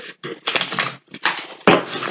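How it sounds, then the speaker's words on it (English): Gilded Tarot cards are shuffled in several quick, crisp bursts of riffling and flapping, close up, with short pauses between the bursts. "I'm going to do a bit of a shuffle with these Gilded Tarot cards"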